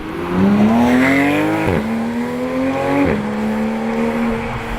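A Porsche 911 GT3 engine screams at full throttle, revs rising steadily through two quick gear shifts, loud and close with a hard mechanical whine.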